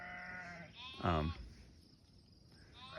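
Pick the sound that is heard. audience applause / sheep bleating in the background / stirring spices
sheep bleating in the background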